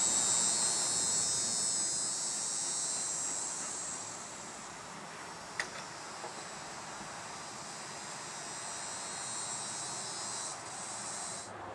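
A steady, soft buzzing hum of honey bees continues throughout, fairly faint and even, with one brief click partway through.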